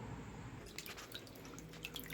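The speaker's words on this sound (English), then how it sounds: "Now I gotta go refill these ice cube trays" Water running from a tap into ice cube trays at home, a steady close splashing trickle with small drips and bubbling that continues throughout, no voices.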